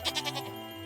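A goat in the farming video game Harvest Island lets out a short bleat of four quick pulses that fade away, close and clear, with a faint steady tone underneath and no talking.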